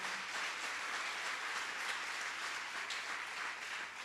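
A church congregation applauds during a Spanish-language sermon, a steady, dense wash of many hands clapping together that holds evenly for the whole stretch with no voices over it.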